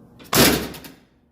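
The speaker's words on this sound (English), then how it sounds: "Even with the doors, look at how they line right back. Door shut." An Oldsmobile Cutlass car door shuts once with a single loud, close thud and a short rattling decay, with no talk over it.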